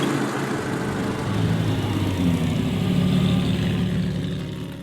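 Classic car engines roar continuously during Pebble Beach Car Week, a steady loud mid-range drone that swells slightly in the middle with no voices over it.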